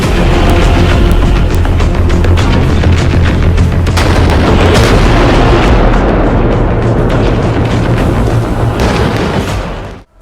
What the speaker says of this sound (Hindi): उन्होंने जब अपना शौर्य और पराक्रम दिखाते हुए फायरिंग की और तोप से गोले छोड़े